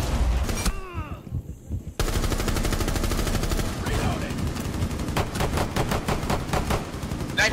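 Rapid automatic gunfire from a Rainbow Six Siege match, loud, close bursts running almost continuously after a brief lull, with a few sharper single shots near the end.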